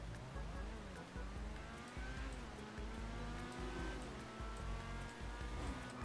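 A Grotti Bestia GTS sports car in GTA Online pulls away hard off the line, its engine note climbing through rising revs with gear shifts, heard fairly faintly and steadily with no speech over it.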